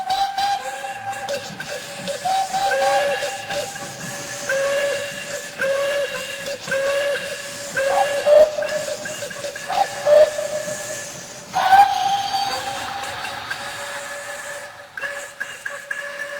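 Steam locomotive whistles in a cheering railway scene: several loud, sustained, overlapping whistle tones sound together over steady steam hiss, swelling and breaking off in turn without pause.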